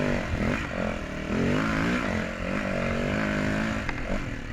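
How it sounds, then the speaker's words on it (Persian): A motorcycle engine on a rough off-road course over rock slabs and a valley descent drones steadily at high revs, with throttle surges rising and falling continuously and no voices. "هنوز اون ریتم گاز دادن رو حفظ کرده."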